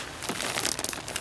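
A plastic package is crinkled by hand while being unpacked, a brief, quiet, close-up crackling rustle with no talk.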